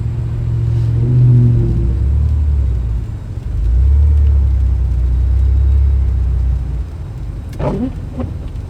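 A car passes on a sleet-covered street in Little Rock during a winter storm, a steady low rumble that swells, dips and swells again over several seconds, heard from inside a moving vehicle with a couple of brief clicks near the end.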